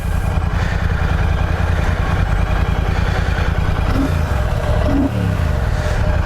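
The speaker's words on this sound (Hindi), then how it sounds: "भाई 650cc का इनका जो इंजन का साउंड है ना" A Royal Enfield Classic 650 motorcycle's 650cc engine runs close and loud, holding a steady, throbbing idle with a brief rise in revs near the end.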